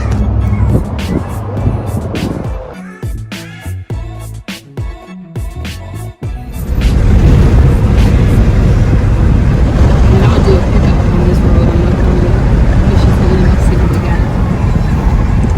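A new Kia K5 on a test drive: a few seconds of handling clicks and thumps, then a steady loud rush of road and wind noise as the car drives on, with no talking.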